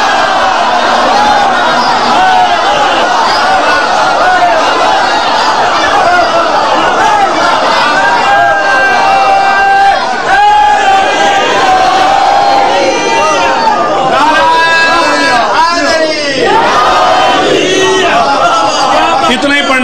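A large crowd at a Muharram majlis chants a religious slogan in loud unison, with rising and falling voices that swell and overlap over about twenty seconds, close and dominant.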